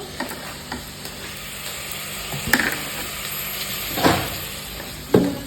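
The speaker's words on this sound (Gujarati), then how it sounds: "બટાકા અને વટાણા તેલમાં ચડી ગયા છે." Potatoes and peas fry in oil in a pan with a constant sizzle, and a few utensil knocks and scrapes stand out as they are stirred.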